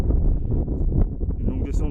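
Wind blowing across a mountain pass in the Néouvielle massif of the Hautes-Pyrénées, a steady low buffeting rumble against the microphone that lasts the whole moment.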